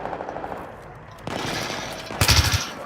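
Gunfire in the Battlefield 3 video game, with distant shots first, then a sustained burst of rapid automatic fire and a louder, heavier volley near the end.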